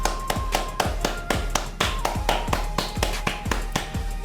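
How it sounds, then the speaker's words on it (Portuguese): A single person claps hands about a dozen times in a loose, fairly steady rhythm, each sharp, close, dry clap standing clear above a quiet room with a faint background tone. "Gente, eu vou bater palmas"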